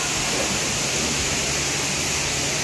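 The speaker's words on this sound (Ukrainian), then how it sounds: "Зараз буду наносити піну" A loud, steady rush of spray hisses without a break at a car wash on the last day of winter as foam goes onto a car, a broadband wash like falling water with no voices.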